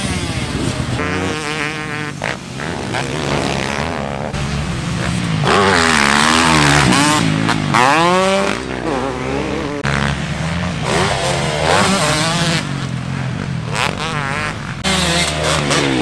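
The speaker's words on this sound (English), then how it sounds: "I know, it's a two-stroke, so it sounds right." Two-stroke motorcycle engine running continuously with a buzzing, raspy tone that rises and falls in pitch as it revs, fairly loud and steady.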